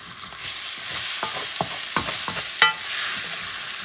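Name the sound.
stirring and scraping goat curry in pot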